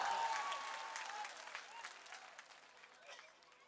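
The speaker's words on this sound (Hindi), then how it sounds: "जोरदार तालियों से इस्तकबाल करें।" Applause from an audience, loud at first and gradually thinning out, with a few scattered voices mixed into the crowd noise.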